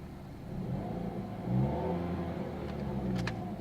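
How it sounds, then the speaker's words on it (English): A 2013 Dodge Dart Rallye's 2-liter four-cylinder engine runs close by, a steady mid-pitched hum that swells into a rev around the middle before settling back, with a couple of faint clicks near the end. "You can hear that 2-liter 4-cylinder engine."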